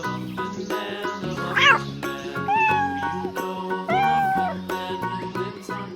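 A toy cat on a farm playset meows twice over a bright, looping electronic jingle, the meows loud and close.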